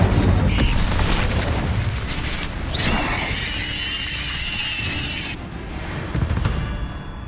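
A loud fiery blast and burst from the Incendio fire spell in Hogwarts Legacy on PS5, followed by a crackling whoosh and sustained roar that cuts off abruptly.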